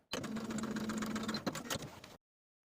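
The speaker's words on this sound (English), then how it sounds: "I'm going to sew through that large dot, stopping an inch below the dot" A sewing machine runs a steady two-second line of stitching along the fly front seam of a pair of pants, its motor whir close and even before stopping abruptly.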